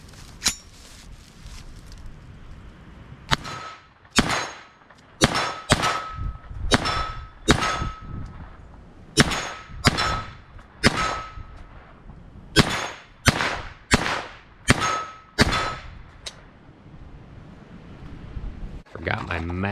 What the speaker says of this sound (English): I think I have a couple of Glock mags, standard Glock mags. That's what I'm loading up right now.